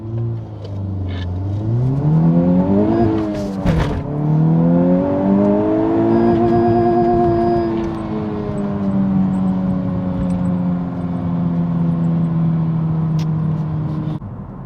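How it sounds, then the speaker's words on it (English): Front-wheel-drive hot hatch accelerating hard from 0 to 60 mph, a loud engine roar rising in pitch through each gear with quick dips at the shifts, heard from inside the car. "Right, so let's do another 0 to 60."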